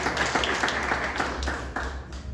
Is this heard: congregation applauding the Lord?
yes